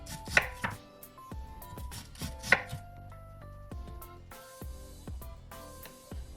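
Knife slicing through yellow yam on a board for Jamaican chicken soup, a series of sharp, close chops in an uneven rhythm, some landing harder than others, with no voices.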